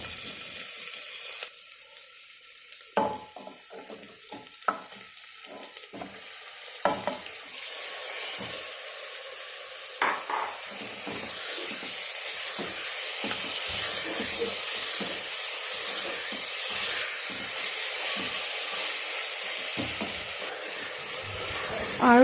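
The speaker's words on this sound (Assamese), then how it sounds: "আৰু পিঁয়াজখিনি অকণমান 5 মিনিটমান মই ভাজি লৈছোঁ।" Onions frying in hot oil with cardamom, cloves and cinnamon in a pan give a steady close sizzle, with scattered clinks and scraping of stirring early on, then a continuous hiss.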